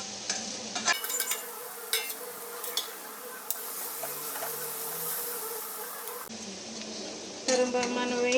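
Fried onions and capsicum are stirred in a pan with cumin powder for a soya chunk curry, giving a soft sizzle under scraping spoon strokes, with a few sharper clinks near the start and end.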